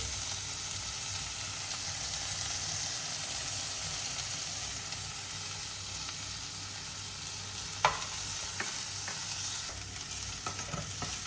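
Spices tempering in hot oil for a homemade spicy chicken curry, a steady close sizzle and crackle that runs throughout with occasional sharper pops and stirring scrapes near the end.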